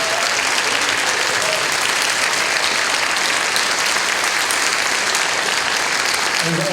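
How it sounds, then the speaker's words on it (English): A live audience claps steadily and warmly for nearly seven seconds at a band concert, a dense even wash of applause with no voices standing out. "let's give a big round of applause for Dean."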